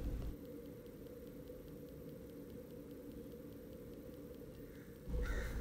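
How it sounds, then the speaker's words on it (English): Crows caw in a backyard, repeated calls carrying faintly over a steady hiss of background noise. "there was about 10 to 15 more crows that joined in my backyard to let the whole neighborhood know that I shot a crow."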